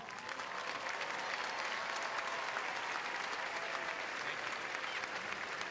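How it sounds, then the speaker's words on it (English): Crowd at an undergraduate commencement gives a sustained round of applause for a U.S. senator, a thick, even roar of clapping from many hands at a distance. "Let's give a Southern round of applause to welcome Connecticut resident and U.S. Senator Richard Blumenthal."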